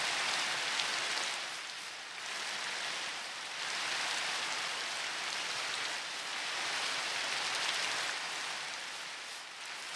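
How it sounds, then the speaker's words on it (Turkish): Steady hiss of falling rain in Minecraft, swelling and easing slightly in gentle waves, with no voices. "Yağmur da yağıyor."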